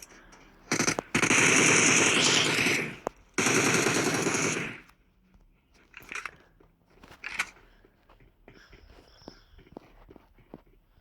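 Automatic gunfire from shooting bots in the PUBG battle royale game: two long, loud, sustained bursts of rapid shots, followed by quieter scattered shots and rustling with no talk.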